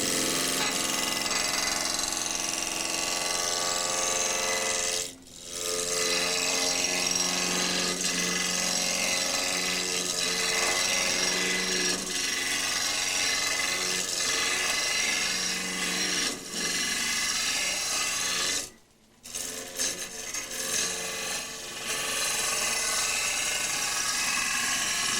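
A roughing gouge cuts into spinning wood on a lathe, making a continuous loud scraping and chattering. Two brief pauses break the cutting, and no one talks.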